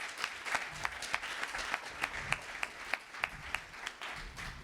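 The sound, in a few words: audience applause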